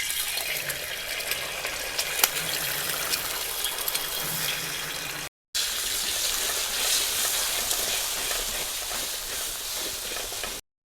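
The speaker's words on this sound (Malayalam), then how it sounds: "ഇനി ഈ മുട്ട നന്നായിട്ടൊന്ന് ചിക്കി ഒന്ന് വറുത്തെടുക്കാം" Eggs scrambled and fried in sesame oil in a pan give a steady, close, loud sizzle that runs on without a break, with no talk over it.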